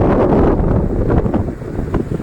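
Steady roar of the rushing Swarnamukhi river in Tirupati, close and loud, heavily buffeted by wind hitting the microphone.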